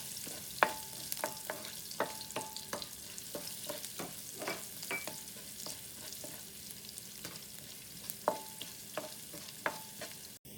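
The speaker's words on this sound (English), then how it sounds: "And we'll saute this for 15 to 20 seconds." Asafoetida and turmeric powder sauté in oil for a tomato thokku: a soft, constant sizzle with a spoon clinking and scraping against the pan again and again at an irregular pace.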